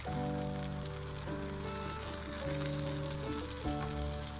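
French toast frying in a little oil on a griddle, a steady soft sizzle and crackle running throughout over a low tonal hum, close and quiet with no speech.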